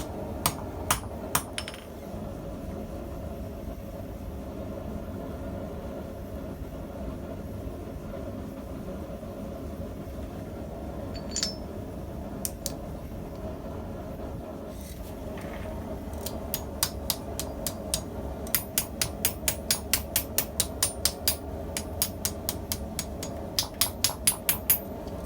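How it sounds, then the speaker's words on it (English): Sharp metallic hammer strikes on metal, sparse at first then coming in quick rhythmic bursts over a low background hum, during repair of a treble hook. "So I'm hammering and thinking"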